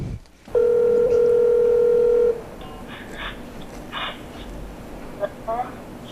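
A telephone call being placed: a loud steady dial tone held for nearly two seconds, then a quieter run of dialing and ringing signals, with faint talk under it.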